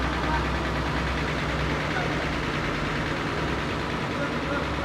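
A front-engine Rema Abadi intercity bus sits idling, its engine a steady low rumble with a continuous broadband drone that holds constant throughout, close by with no clear talk over it.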